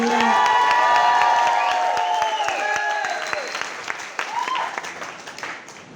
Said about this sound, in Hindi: उसके लिए मैं चाहता हूं एक बार जोरदार वाली तालियां